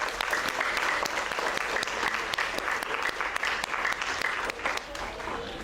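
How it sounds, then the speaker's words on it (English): Sustained audience applause at a creative talk event on caricature, a dense steady clapping from a full room that holds across the whole stretch and eases slightly at the end. "let's give our amazing organizers a big round of applause"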